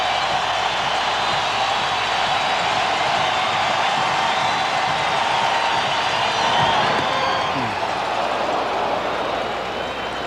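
A large baseball stadium crowd at the 1995 World Series rises and cheers, a steady, broad roar that swells slightly near the middle and eases toward the end.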